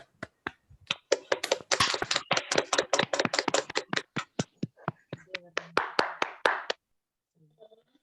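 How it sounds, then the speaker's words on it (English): An online ceremony audience claps together over unmuted microphones, giving a burst of many sharp, uneven claps that thins out toward the end and stops. Faint background sounds follow. "Can we all unmute and then clap together?"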